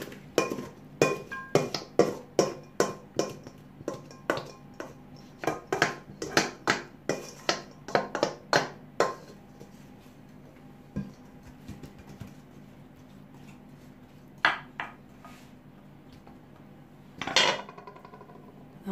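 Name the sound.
potatoes being put into a baking mould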